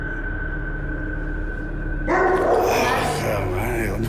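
A dog barks and yips outdoors in sudden bursts after a quiet stretch with a steady hum, followed by a few more scattered barks, fairly close and loud.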